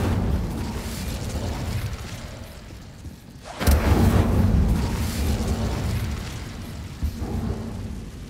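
An Incendio fire spell cast in Hogwarts Legacy erupts in a sudden whooshing burst, then roars on as a steady crackling blaze amid constant background rumble, with a smaller flare near the end.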